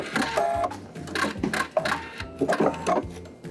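A sewing machine backstitches a dress hem in short bursts of whirring stitches, stopping and starting in a quick rhythm at close range with no talk.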